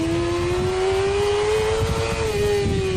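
Motorcycle engine running steadily while riding through curves, a loud sustained drone with a slowly rising pitch, accompanied by constant wind rush and no talk.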